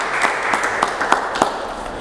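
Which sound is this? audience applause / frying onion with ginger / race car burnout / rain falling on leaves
audience applause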